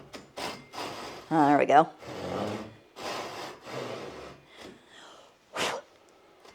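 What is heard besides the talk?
Japanese pull saw cutting wood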